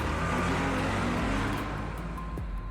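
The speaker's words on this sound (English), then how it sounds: "the station wagon roared to life" A station wagon engine roars to life, a loud, close, sustained revving rumble that eases slightly toward the end, with no voices.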